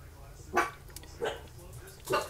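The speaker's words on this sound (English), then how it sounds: "Oh, there go the dogs again." Dogs bark three times at a distance, spaced about evenly, heard from a home kitchen with faint background hum and no speech.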